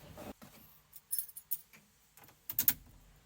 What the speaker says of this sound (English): So I'm gonna go get the keys.